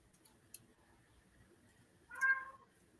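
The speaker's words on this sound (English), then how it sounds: "That's a cat." A house cat gives a single clear meow near the end, preceded by faint clicks and small tapping sounds in an otherwise quiet indoor room.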